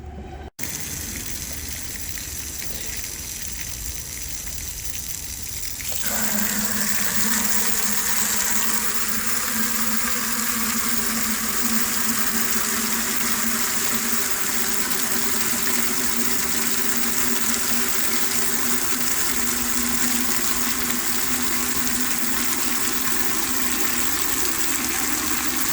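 Water from a pressure washer hose gushing into a bucket, a loud constant rushing stream with an engine or pump hum that intensifies after a few seconds and stays steady.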